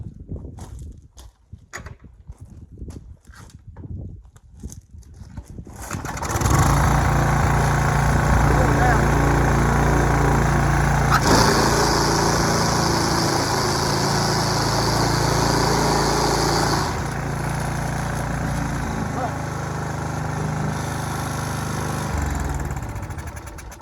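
After a few rough tries and pulls, a small engine with newly replaced gaskets fires up and runs at a loud, steady idle close by, its pitch and rhythm shifting slightly partway through.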